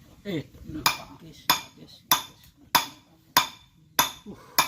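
A metal water pot clinks and knocks repeatedly as it is handled and moved aside, about seven bright, ringing metallic hits at a regular pace, close and fairly loud.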